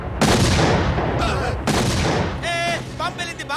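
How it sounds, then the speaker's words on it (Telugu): Two loud, sharp blasts tear through a Telugu comedy film scene, each followed by a rumbling, crackling tail, with some voices mixed into the noise. "బాంబ్ బ్లాస్ట్ అవుతా హై"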